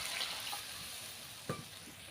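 Water poured into a hot pan of mustard-paste spiced fish curry, a steady broadband sizzle and bubbling throughout with a brief louder splash near the end, no talk.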